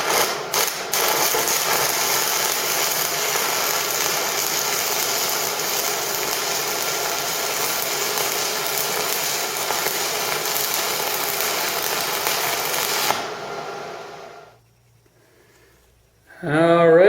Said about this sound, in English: we'll go ahead and run a 5/32 welding rod bead.